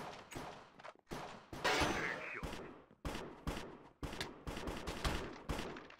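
Gunfire in Minecraft's Hypixel Cops n' Criminals mode: rapid clusters of sharp shots with short gaps between bursts, close and loud, some overlapping into a fusillade.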